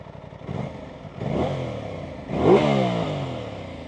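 An Aprilia RS660 sport motorcycle revs through its twin-outlet exhaust in three rising bursts, each climbing in pitch and holding briefly, the last one loudest and close.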